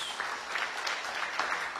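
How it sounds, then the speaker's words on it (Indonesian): A church congregation applauds for Jesus during an Indonesian sermon, a steady, moderately faint wash of many hands clapping through the whole stretch with no voices over it. "Ayo tepuk tangan yang meriah bagi Tuhan Yesus"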